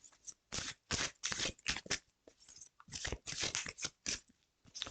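Tarot cards being shuffled and drawn, a series of crisp riffling and flicking bursts separated by short pauses, close and fairly quiet with no talking.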